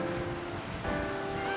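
Ocean waves wash steadily at the beach by Hearst Castle, a broad continuous rush with wind buffeting the microphone and a faint low engine hum underneath.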